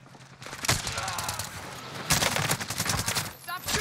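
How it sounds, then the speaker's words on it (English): Rapid automatic gunfire in the Warzone video game, dense overlapping bursts of shots in two heavy volleys, loud and close, mixed with game effects. "Stop shooting!"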